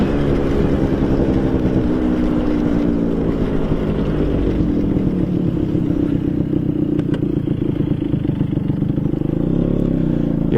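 A Vespa PX MK1 scooter fitted with a VMC Super G 2.0 kit pulls hard under throttle, its two-stroke engine a loud, rasping, rising drone heard close from the rider's position, steady throughout with no talk.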